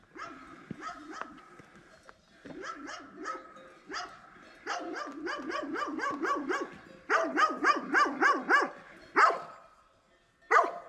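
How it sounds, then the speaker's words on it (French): A dog barks repeatedly on a mountain hiking trail in the Alpes-Maritimes, near and loud, in bursts of rapid yaps and barks that build and pause, alone without speech. "Ça y est, voilà le chien."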